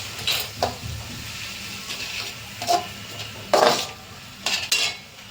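A spoon stirs red chilli sauce and Schezwan chutney together in a pan for Manchurian, giving intermittent metallic clinks and scrapes against the pan, close by, with no talking.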